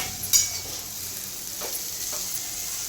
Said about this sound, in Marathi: आता टाकते मिरची डायरेक्ट तेलात